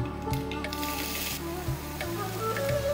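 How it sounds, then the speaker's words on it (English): Finely chopped cabbage and carrot hiss and sizzle steadily in a hot pan of coconut oil with mustard seeds and curry leaves, close and continuous, with a few soft clicks of stirring. "Time to add our cabbage and carrot."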